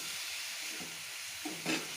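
Onions for pickle sauté quietly in a pan, a soft steady sizzle with a couple of brief stirring scrapes near the end, faint and close.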